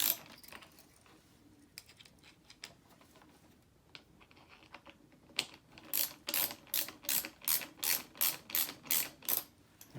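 A bolt on a snowshoe binding is tightened with an Allen wrench: sparse mechanical clicks, then a steady run of about a dozen sharp, evenly spaced ratcheting clicks, close and distinct.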